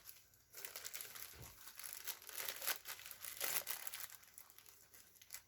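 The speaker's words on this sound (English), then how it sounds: "So I'm just going to open these up here, just tear them open." Thin plastic wrapper around a set of piston rings for a Mopar 360 engine being torn and crinkled open by hand, a close, busy crackling and rustling that runs for several seconds with no talking.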